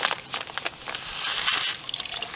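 Granulated sugar poured into water to mix bee feed, a soft continuous trickling pour with light splashing, close and fairly quiet, no talk.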